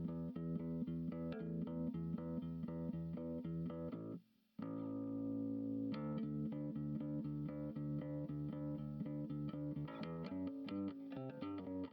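Hair metal bass guitar line run through a smasher compressor, heavily squashed and distorted, with steady driving notes, a brief gap partway through, and no talk over it.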